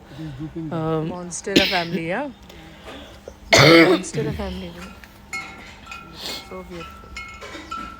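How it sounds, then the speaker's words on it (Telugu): A voice talks quietly in a bonsai garden, broken by one sharp, loud cough mid-way, then the talking carries on against faint clinking. "కొంచెం హెల్త్ బాగాలేదు చాలా దగ్గు వస్తుంది"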